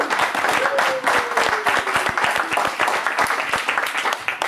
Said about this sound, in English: So a big round of applause from me to you.